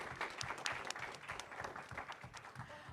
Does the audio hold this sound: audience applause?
yes